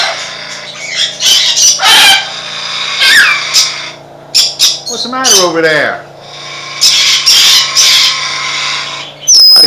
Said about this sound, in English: Got some parrots down here.